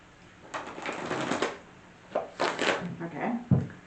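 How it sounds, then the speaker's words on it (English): Tarot cards are shuffled in a few quick bursts, crisp riffling and flicking with short pauses between, close and moderately loud. "One more shuffle."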